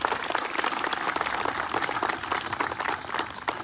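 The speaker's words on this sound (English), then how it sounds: "Please give them a round of applause as well." A crowd at a Memorial Day veterans ceremony at a Rochester Hills VFW post applauds, bright dense clapping that goes on steadily throughout.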